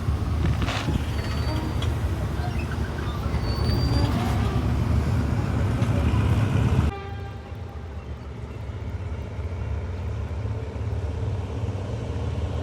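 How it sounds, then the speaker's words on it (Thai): Rapid train 172 pulls out of Nong Pla Duk junction with a steady low rumble and clatter that drops abruptly to a quieter hum partway through. "ขบวนรถเร็วที่ 172 กำลังเคลื่อนตัวออกจากชุมทางหนองประดุกนะครับ"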